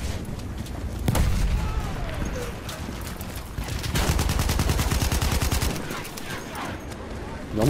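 Rapid gunfire and explosive bursts from the multiplayer shooter game Battlefield 1, loud and dense throughout, with repeated shots and sustained automatic fire in the middle of the clip, under faint voice chatter.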